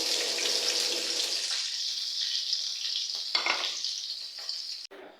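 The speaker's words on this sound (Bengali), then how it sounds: "এই যে কড়াইতে তেল দিয়ে দিলাম" Oil sizzles steadily in a kadai set up for cooking leafy greens, a bright hiss that holds level for about five seconds, with a few louder crackles near the end before it cuts off abruptly.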